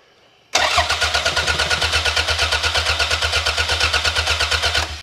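A car engine fitted with a newly installed AlphaECU 4-channel unit cranks briefly, catches loudly and settles into a fast, even, pulsing idle close to the microphone.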